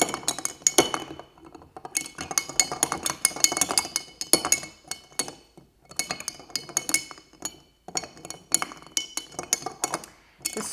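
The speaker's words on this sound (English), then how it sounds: "give it another little mix because of course that sugar and bitters are still at the bottom" A spoon clinks against a square glass while stirring a whiskey Old Fashioned with sugar and bitters, in close, rapid bursts of bright rattling, broken by short pauses.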